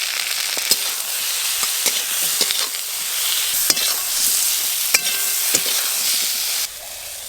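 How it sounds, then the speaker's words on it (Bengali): Potato and eggplant pieces fry in a pan with salt and turmeric, making a loud close sizzle broken by sharp clicks and scrapes from stirring. The sizzle drops suddenly near the end, and no one speaks. "ওপর দিয়ে লবণ আর হলুদ ছড়িয়ে দিয়ে আলু আর বেগুন আর একটু ভালো করে ভাজবো"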